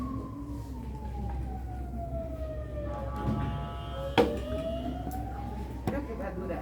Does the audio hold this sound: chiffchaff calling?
no